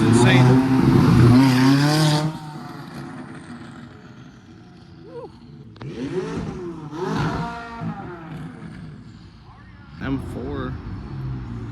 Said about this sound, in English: I believe this is like a Model Y. Oh my god, this thing sounds insane.